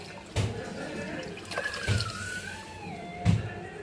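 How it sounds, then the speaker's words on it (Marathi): Water poured into a pan of roasted, ground masala paste while cooking Maharashtrian kat amti, giving a few short splashing bursts over a low kitchen background. "पाणी टाकून घेऊया।"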